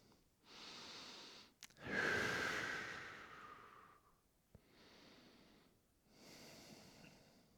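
Slow, deep breathing during a foam roller fascia release, several long audible inhales and exhales with one strong rushing breath, close and quiet, with no talking.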